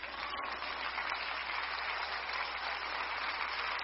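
Audience applause at a Spanish-language religious sermon, a dense, even patter of many hands clapping that continues at a steady level throughout.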